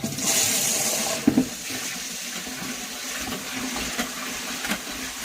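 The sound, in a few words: washing sorghum grain in water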